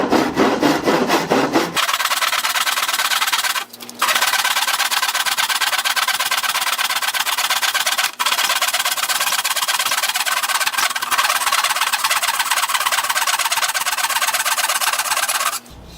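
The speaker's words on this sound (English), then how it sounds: "Now I'm just going to go down through and split this 2x4 so I get a little clamping force on it." A wooden 2x4 being cut down through its length to split it, giving a steady, loud, continuous rasping saw sound that runs almost without pause for about fourteen seconds after a brief opening.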